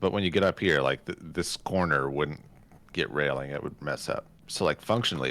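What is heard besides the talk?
No everyday noises stand out.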